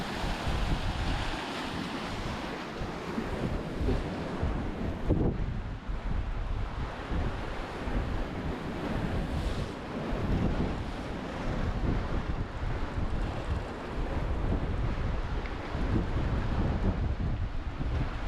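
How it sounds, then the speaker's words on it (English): Waves slam against the wing deck of a sailing catamaran heading upwind across the Atlantic, producing constant loud, rough crashing and splashing mixed with heavy wind rushing over the microphone. "Those waves are hitting the wing deck."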